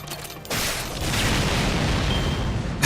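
A broad, sustained rumbling boom from an explosion in the video game Fate/Grand Order, breaking in suddenly after a quieter opening and holding loud and dense to the end, with no talk over it.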